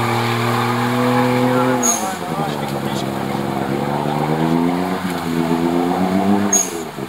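Off-road cars ploughing through a swamp over water and hummocks, engines droning steadily and close with the pitch climbing and falling as they labor, and a voice talking over them.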